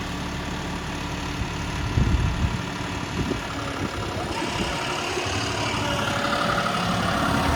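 A tractor engine rumbles steadily up close while working in soft, loose soil, sinking slightly, with a few low thumps and jolts over the constant drone.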